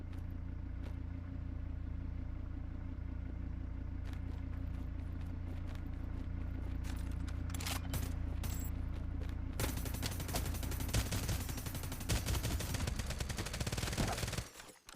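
Automatic gunfire from an M4 in the online shooter Farlight 84, repeated bursts over a constant engine-like drone, growing denser and louder toward the end.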